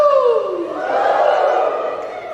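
A church congregation at an IPIC service in Naviraí, MS lets out a loud collective "uhul" cheer, a rising group shout that swells and holds for a couple of seconds before fading.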